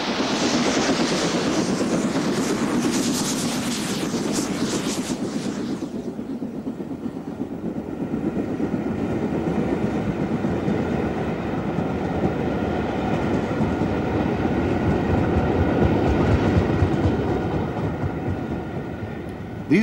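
A steam train rumbles past close by on a British main line, a steady rolling roar of wheels on track with rhythmic clatter, the hiss fading after the first few seconds.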